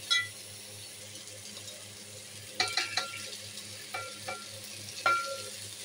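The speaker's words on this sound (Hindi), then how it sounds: "अब हम इसमें वेजिटेबल्स ऐड करेंगे सबसे पहले हम इसमें गाजर और शिमला ऐड करेंगे" Chopped carrots and capsicum fry with chicken in a pan, a soft steady sizzle broken by a few clinks and scrapes of a spoon stirring, close and fairly quiet, with no talk.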